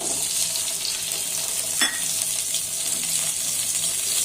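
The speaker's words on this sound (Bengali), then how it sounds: "এবার ওই তেলেতেই আমি ফোড়ন দেব একটু কালো জিরে, আর দেব টমেটো কুচি" Black cumin and chopped tomato drop into hot oil and set off a loud, continuous sizzle close by, with one brief sharper crackle partway through, and no speech.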